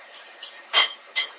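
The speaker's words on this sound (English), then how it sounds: "So you try to spoon them all in" Cake batter spooned into cupcake cases, with four quick scraping clinks of a spoon against a bowl and cases, close and evenly spaced, no talk.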